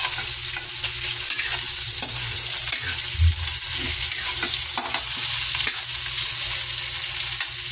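Pork sinigang with tomatoes is stirred in a pot, producing a steady, close sizzle with repeated scraping strokes throughout.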